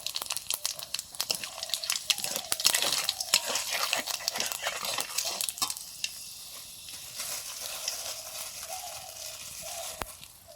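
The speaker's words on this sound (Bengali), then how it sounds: "সর্ষের তেল সবজি রান্না করব ইলিশ মাছের মাথা দিয়ে শুকনো লঙ্কা তেজপাতা পাঁচফোড়ন" Mixed vegetables and a hilsa fish head fry in mustard oil with dried red chillies, bay leaves and panch phoron. The sizzle is lively and crackling, with irregular stirring scrapes and rustles, louder early on and easing later, with no speech.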